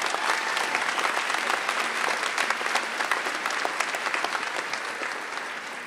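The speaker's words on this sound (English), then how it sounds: "Please give her a round of applause." At a university commencement ceremony, a large audience applauds. The clapping is dense and sustained, stays steady throughout and eases slightly at the end.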